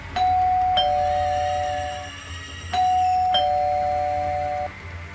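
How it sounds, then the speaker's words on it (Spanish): A doorbell chimes twice, each a two-tone ding-dong ringing out clearly with a lingering decay, in a quiet room. "Durante la noche, suena el timbre."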